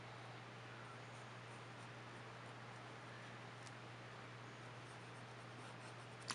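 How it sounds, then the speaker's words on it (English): A Sheaffer Student fountain pen writes on paper with a faint, continuous scratching under a steady low hum and background hiss, close and quiet throughout, with no talking. "Now let's do some writing with it."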